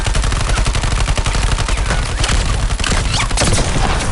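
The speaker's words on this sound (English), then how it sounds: "How does shooting through the vehicle like that makes it explode?" Loud, dense automatic gunfire rattles continuously at a vehicle in the Suicide Squad: Kill the Justice League video game, rapid overlapping shots with booming low impacts throughout.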